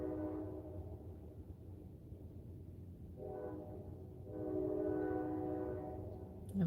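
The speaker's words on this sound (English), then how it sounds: "Oh, there's a train going by in the distance." A train passing in the distance sounds a drawn-out horn in two long, faint blasts over a low, steady rumble.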